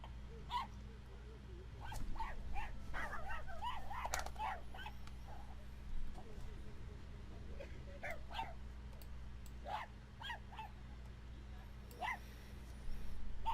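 Several dogs yip, bark and whimper in short scattered bursts around a Boston Dynamics robot, over a constant low hum, faint and somewhat distant.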